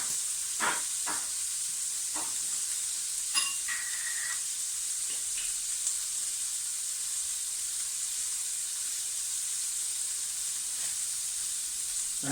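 Chilli con carne sizzling in a pan while being stirred, a constant soft hiss with a few scraping and tapping strokes early on, then settling into a steady quiet sizzle.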